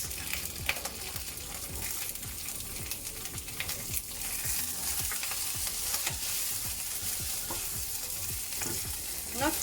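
Onions and a teaspoon of ginger paste fry in a pan with a continuous close-up crackling sizzle, dense with quick pops and spatters. No voices are heard.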